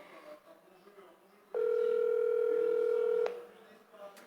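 A telephone dial tone sounds while a call is placed back to someone: a single steady, clear tone lasting under two seconds, set between quieter stretches of low background noise.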